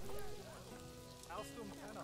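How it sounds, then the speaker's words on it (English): Steady rain hiss falls across a zoo park in the game Planet Zoo, an even wash of patter running beneath faint tonal game sounds and background music, with no talk over it. "I kinda wish it would stop raining now"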